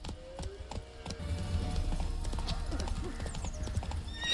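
A horse's hooves clip-clop steadily in Witcher 3, a rhythmic, close trot with faint ambient background and short neighing sounds mixed in.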